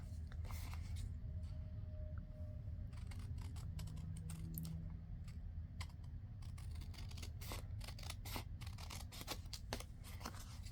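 Scissors cut through a paper junk mail envelope in a quiet room, a run of quick, close crisp snips and paper rustles that thin out briefly and then pick up again.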